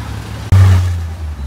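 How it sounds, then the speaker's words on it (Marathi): An auto rickshaw engine arrives close by on a one-way road, a sudden loud onset of low engine drone that holds steady and slightly fades over about a second. "तर ऑटो आली फ्रेंड्स फायनली."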